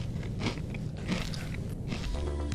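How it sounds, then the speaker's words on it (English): A person chewing food close to a microphone, with wet, crunchy bites and mouth sounds in a steady run, loud and near, no talking. "Should I mute the mic while I'm chewing?"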